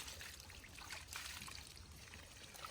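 Water poured and sprinkled outdoors at a temple, a soft, steady trickle and splash heard faintly against background hiss.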